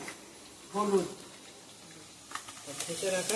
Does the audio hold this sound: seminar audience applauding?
no